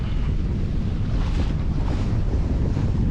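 Steady wind buffets the microphone aboard a sailboat at sea on a beam reach, with the rush of water and swell underneath, loud and continuous throughout.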